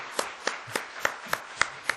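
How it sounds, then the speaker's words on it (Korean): A church congregation claps in a steady rhythm, about seven crisp, evenly spaced claps over two seconds. The claps are fairly close and moderate in volume, with quiet room tone between them. "여러분 박수를 한번 하겠습니다"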